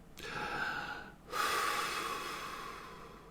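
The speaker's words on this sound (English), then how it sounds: "Breath." Two deep, close breaths, a long inhale followed after a brief pause by another strong, airy breath that slowly fades, with no talking.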